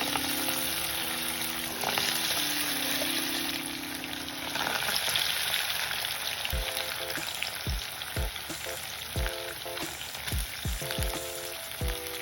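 Poha pakodas fry in hot oil in a village-style kitchen, giving a dense, continuous bubbling sizzle up close, with a run of clinks and taps from a utensil near the end.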